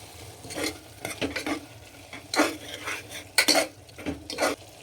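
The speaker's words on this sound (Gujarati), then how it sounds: "પછી આપણે આ મસાલો બધો મિક્સ કરી દેવાનો।" Spices mixed into spinach sabzi in a pan, with repeated scraping and clinking of a metal spoon against the pan in irregular strokes over a faint sizzle.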